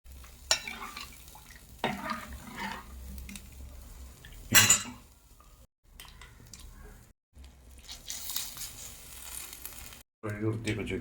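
Spice paste with turmeric, mixed with water, being stirred in a cooking pot: quiet, intermittent clinks and scrapes of a metal spoon, with soft wet swishing between strokes.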